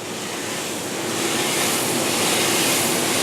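Corn being carried into a mill by grain-handling machinery, heard as a steady, loud, broadband rushing roar that swells slightly and never lets up, with no voices.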